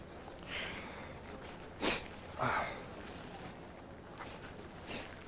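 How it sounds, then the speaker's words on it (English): A couple of short sniffs stand out against steady windy background noise, then fainter breathy sounds follow. "Sniffle, sniffle."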